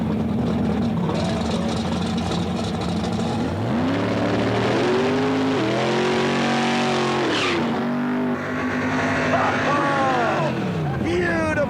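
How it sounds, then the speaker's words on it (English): At a drag racing event in Orlando, two drag cars, one a 1997 Chevrolet Camaro, do smoky burnouts. Their engines roar and rise in pitch with loud sweeping revs while an announcer talks over them. "Smoky burnouts for both cars."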